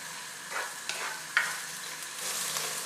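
Red onion and the white part of green onion sautéing in a pot, a soft steady sizzle broken by a few stirring scrapes and a light clack of a utensil.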